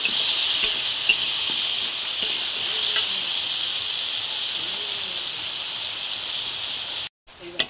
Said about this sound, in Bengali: এবার আমি সবজিটাকে সুন্দরভাবে কষে নেব